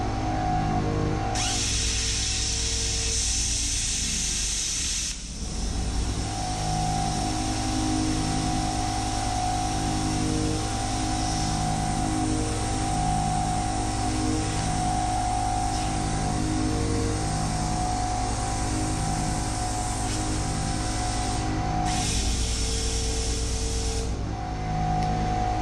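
A small air compressor drives an air-powered tool, producing a loud, continuous whine with a short break near the start and another near the end as the tool stops and restarts. No speech is heard.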